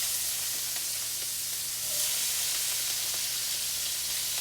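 Diced red onion sizzling in bacon grease in a hot pan, a soft steady hiss with faint crackles and a slight swell midway, quiet and without talk.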